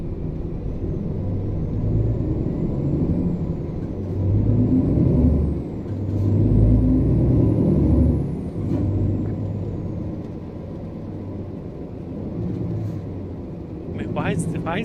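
Scania truck engine with a Sting sound mod version 5.6 in Euro Truck Simulator 2 on an Île-de-France map, a steady low rumble rising and falling at moderate loudness under a talking voice, with a short air-brake hiss near the end.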